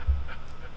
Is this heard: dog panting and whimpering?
yes